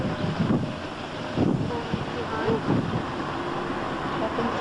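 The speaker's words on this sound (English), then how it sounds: "Very windy today." Wind buffets the microphone in steady rumbling gusts, with a few stronger blasts over a constant outdoor roar.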